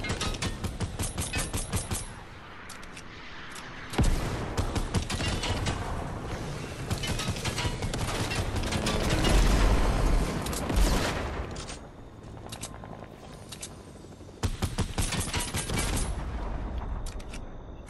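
Gunfire from a gun in a video game, long rapid automatic bursts loud and close, broken by quieter pauses with mechanical clicks and reload sounds, then firing resumes.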